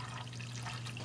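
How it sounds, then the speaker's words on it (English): Plain tap water pours steadily into containers for a DIY hydrogen HHO setup, a continuous close splashing and trickling wash that runs alone without a break, no voices over it. "I'm gonna fill it up both of these containers with this water."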